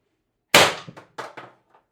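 IntruBuster G2 airgun, fitted with replaced o-rings and a 50mm tuning spring, fires a single sharp, loud, close shot over a chronograph, followed by a few quick metallic rattles and clicks as it settles.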